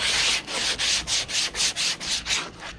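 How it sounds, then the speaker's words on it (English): Hand sanding the front of a kayak hull, a close, steady back-and-forth rasp of sandpaper in about ten even strokes, alone with no talking. "While I wait for that to get hot, I'm going to sand the front of this."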